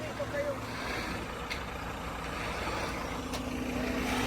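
A concrete truck pours concrete for a new shop pad, its engine rumbling steadily at close range with a broad, continuous drone and faint scraping; a voice speaks briefly over it.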